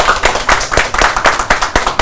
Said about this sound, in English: let's give this gentleman a round of applause